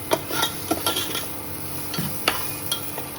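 Vegetables frying in a pan with Maggi masala, with a few spaced scraping clinks of a spoon stirring against the metal over a faint low sizzle.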